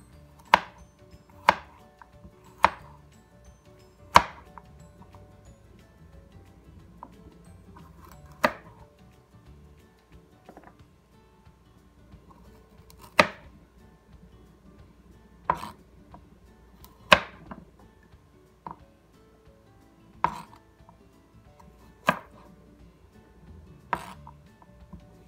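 Baby carrots are chopped with a knife on a cutting board in sharp, separate knocks, about a dozen irregularly spaced strikes that stand out clearly over a quiet kitchen background.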